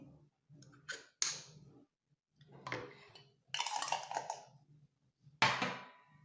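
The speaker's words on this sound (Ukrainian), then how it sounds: "Це все я перемішала" Intermittent metallic clinks and scraping of a spoon against a bowl while mixing a lemon juice and mustard dressing, several short bursts with quiet pauses, close up.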